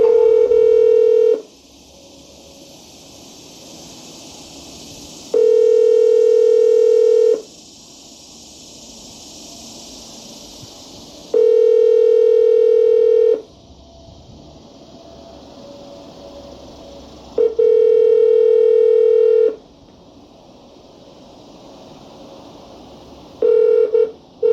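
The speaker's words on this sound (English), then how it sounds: "I'm gonna skip phone 2 and try to call phone 3" A phone line playing a steady dial tone in repeated bursts of about two seconds, separated by stretches of soft hiss, as a mobile number is called from a lakeside setting; loud and close, with no talking.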